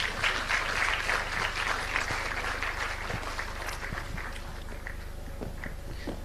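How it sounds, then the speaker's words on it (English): An audience at a TEDx youth event at Genesis Schools Oysterbay gives Madam Amina a long round of applause, clapping strong at first and gradually thinning, with a steady low hum underneath. "Please, can we give her a very big round of applause?"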